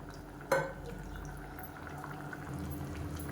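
A pot of tamarind-based kuzhambu curry simmers and bubbles with a soft, steady burble after a single clunk of a utensil against the pot near the start, quiet and close with no talking.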